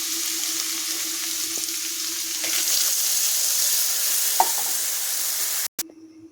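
Water poured over fried potatoes for a curry in a hot pan, giving a loud, steady sizzle with some stirring, and then a sudden cut to near quiet at the end.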